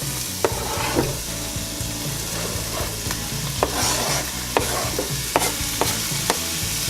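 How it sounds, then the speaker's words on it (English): Onions and bell pepper sizzling in a hot pan, a loud close frying hiss broken by repeated scraping clicks of stirring, with no voices. "as you can see, they are sizzling, so we're going to go ahead and add our onions in"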